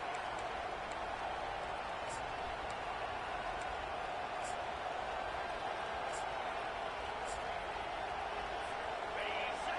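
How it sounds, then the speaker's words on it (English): A stadium crowd roars steadily at a college football game in College Football 25, a dense, continuous wall of cheering that holds loud and unbroken throughout. "This crowd, full throat, splitting the eardrums and letting them know it's going to be a long day."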